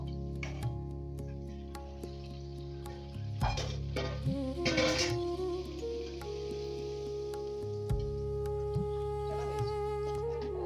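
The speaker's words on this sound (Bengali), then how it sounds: "তেল গরম হয়ে গেছে, দিয়ে দেবো লুচি" Luchi dough sizzles and bubbles in hot oil, with a stirring scrape and occasional clinks of a utensil against the pan.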